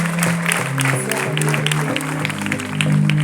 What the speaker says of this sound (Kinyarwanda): Umumpera amashyi kuko yanze.